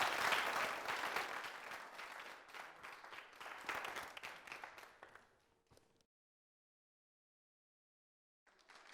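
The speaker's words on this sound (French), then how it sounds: "Merci de l'applaudir." An audience applauds the guest Turbo 226 on a French-language television entertainment show, the clapping loud at first, then fading out around the sixth second into silence before a faint sound returns near the end.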